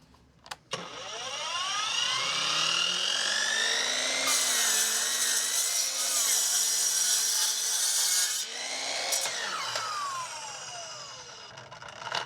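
A $200 budget Power Wheels miter saw spins up with a rising motor whine, bites through a stacked walnut board about 2.5 inches thick with a loud steady cutting roar, then winds down alone.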